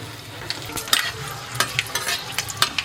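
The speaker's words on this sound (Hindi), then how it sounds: "तो यहाँ तड़का में लिए हैं 2 लाल मिर्चा, 2 तेजपत्ता, आधा टीस्पून मेथी है।" Red chillies, bay leaves and fenugreek seeds sputter and crackle in hot oil for a festive mixed-vegetable dish, with a steady close sizzle broken by sharp pops and the scrape of a stirring spoon.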